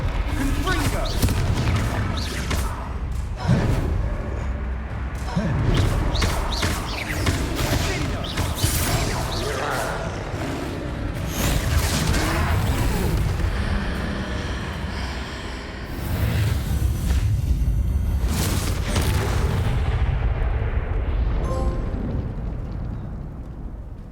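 Repeated blasts from the Confringo fire spell in Hogwarts Legacy during a troll fight, loud booms and crackling bursts packed among game music and character voices throughout.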